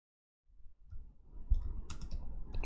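Computer keyboard typing and mouse clicks while setting up a blog form, a quick burst of close, soft key taps and clicks that starts after a short silence and carries on densely to the end.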